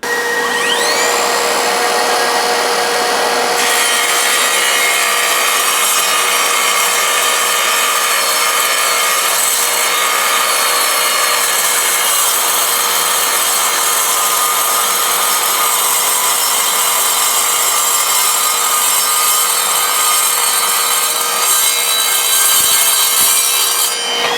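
An Evolution R185SMS-Li 18V cordless sliding mitre saw cuts through 6mm mild steel plate, producing a loud, continuous high-pitched grinding whine that holds steady for the whole stretch with no talking.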